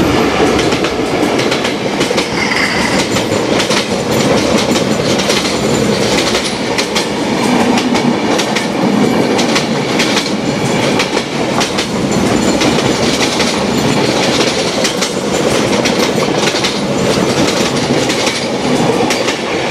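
The Simanta Express passenger train runs steadily on its rails, a loud, close, continuous rumble with rhythmic clickety-clack of wheels and faint squeals throughout.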